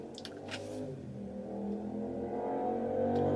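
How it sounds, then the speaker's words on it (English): A motorcycle passes nearby, its engine note swelling and growing steadily louder over a few seconds against quiet room sound. "Just wait for the motorcycle to go past."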